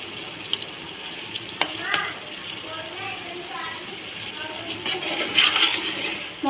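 Biryani ingredients, with fresh coriander in the mix, are stirred in a pot, giving soft scraping and sizzling with a few sharp metallic clinks of a spoon against the rim, while someone talks over it.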